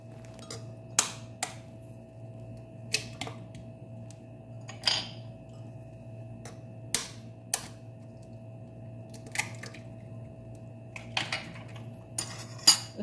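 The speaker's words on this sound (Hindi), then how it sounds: "2 अंडों को तोड़ेंगे" Two eggs being cracked into a bowl with a series of sharp, separate taps and knocks against the rim, spaced irregularly over a quiet room hum.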